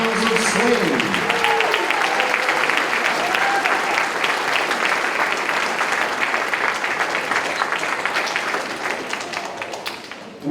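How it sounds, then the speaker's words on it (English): Loud, sustained applause fills a school winter concert hall after the symphonic and jazz bands, thick crowd clapping with a few brief tonal notes early on, tapering slightly near the end. "Let's have another round of applause for the Hounds of"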